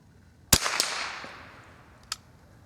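Marlin model 99 rifle fired at a swinging target outdoors, one sharp loud crack with a brief ringing decay, followed by a fainter metallic ping about a second and a half later.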